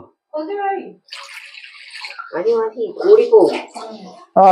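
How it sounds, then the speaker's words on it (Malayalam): Water is poured from up close into a cooking pan on the stove, a short splashy pour between stretches of someone talking. "ആദ്യം പാൻ വെച്ച് കുറച്ച് വെള്ളം ഒഴിച്ചു കൊടുക്കണം."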